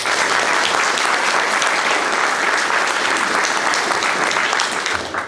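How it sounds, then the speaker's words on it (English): An audience at a congressional primary candidate forum in Collins, Mississippi gives event organizers a long, even round of applause, many hands clapping steadily at full strength before it starts to fade at the end. "So I thought we could offer a round of applause to Janice and all the people who've worked to make tonight a"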